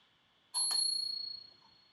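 Bicycle bell on a RadRover electric bike rings out loud and close: two quick bright strikes, then a clear metallic tone that rings on and fades over about a second, with no talk.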